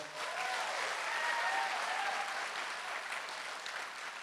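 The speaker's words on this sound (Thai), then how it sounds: "ปรบมือดัง ๆ เลยนะครับ" Sustained audience applause at a Thai lecture or seminar, a dense even wash of many hands clapping at steady volume for several seconds with no talk over it.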